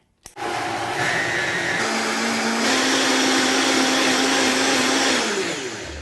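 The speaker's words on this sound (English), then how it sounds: "You always start slow if you have a blender with many speeds, and then you build up speed" A blender mixing a herb marinade switches on and runs loud and steady, its motor pitch climbing as speed increases, then winds down at the end.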